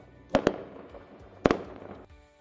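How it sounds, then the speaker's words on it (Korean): Generated fireworks sound effect: two quick sharp bangs close together, a pause of about a second, then another loud burst with a crackling tail fading out, with no voices. "이거는 폭죽이네요."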